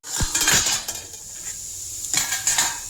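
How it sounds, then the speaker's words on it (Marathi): A metal lid goes onto a pressure cooker holding washed dal with chilli powder and turmeric: a few loud metallic clanks and clinks close by, then quieter rattling, and a final pair of clatters. "चला आता झाकण लावते कुकरच्या."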